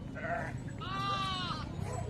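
Several sheep in a flock bleat in overlapping, wavering cries, two clear calls standing out over a steady low rumble of outdoor background noise at a herders' camp.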